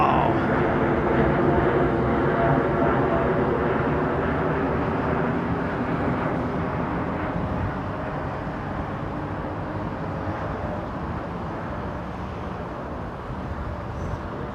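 Boeing 747 jumbo jet departing London Heathrow Airport at sunset, a steady broad roar of engines holding loud throughout and easing slightly toward the end.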